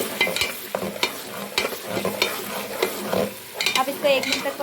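Onions frying in a pot with garlic-ginger paste for a degi-style palak gosht, stirred with a spoon: loud, close sizzling under repeated scraping strokes against the pan.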